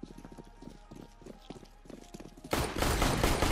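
A burst of loud rapid gunfire in Counter-Strike: Global Offensive erupts after several seconds of quieter footstep-like thumps, the shots dense and overlapping until the end.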